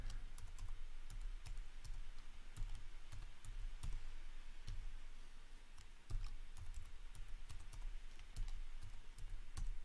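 A password is typed on a computer keyboard, with quick, irregular clicking keystrokes in bursts and short pauses, fairly close and steady over a low background hum, with no talking.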